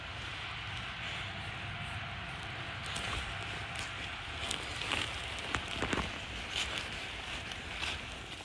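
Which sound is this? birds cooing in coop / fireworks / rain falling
rain falling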